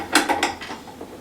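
A stand mixer with a paddle attachment churns cinnamon roll dough, making a quick series of clanking, rattling knocks that fade into softer mechanical clicks. It sounds close and has no talk over it.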